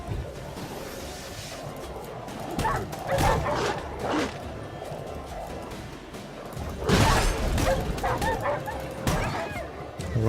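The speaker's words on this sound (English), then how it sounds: "A real dog pack." Dogs of a wild pack in The Witcher 3's White Orchard woods bark and yip in repeated bursts amid combat clatter and swooshes, fairly loud and close, with a player's voice talking over the fight.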